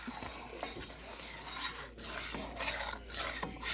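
Spoon scraping and stirring browning food around a pan, repeated rasping strokes in an irregular rhythm, close and fairly quiet with no voices.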